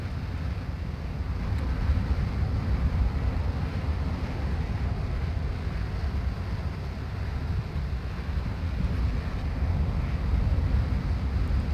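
Twin jet engines of a TU-14 bomber in War Thunder held at full power, a steady broad roar with rushing wind noise, continuous and unbroken throughout with no talk.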